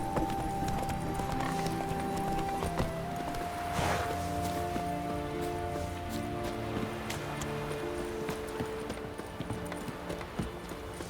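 Roach, Geralt's horse in The Witcher 3, trots with a steady clip-clop of hooves, close and clear over soft rustling, with no talk.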